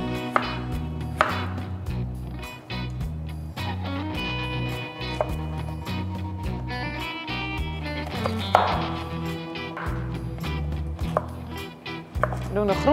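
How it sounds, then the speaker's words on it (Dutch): Rapid knife chopping of radish into long thin strips on a cutting board, a steady run of sharp taps over continuous background music. "We snijden ze in lange dunne reepjes."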